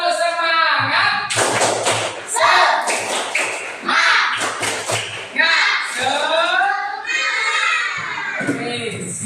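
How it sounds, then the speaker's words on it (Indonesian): A classroom group of children does tepuk semangat, a rhythmic spirit clap, with sharp patterned claps mixed into loud chanted voices for several seconds. "Kita tepuk semangat dulu."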